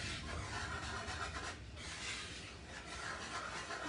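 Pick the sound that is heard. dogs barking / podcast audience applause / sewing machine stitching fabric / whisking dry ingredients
whisking dry ingredients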